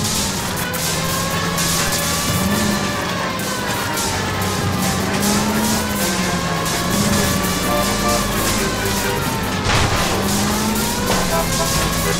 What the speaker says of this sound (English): Suspect is in control of the streetcar and driving dangerously.